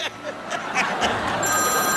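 A telephone rings through a lively room, its bursts of ringing set against background voices and crowd noise.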